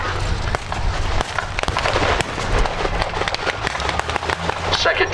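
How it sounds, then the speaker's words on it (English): German trench mortars fire in a World War battle reenactment at an outdoor show, loud sharp blasts and cracks scattered through dense crackling battlefield noise, with a voice talking underneath. "German trench mortars replying, trying to keep the Allied troops' heads down."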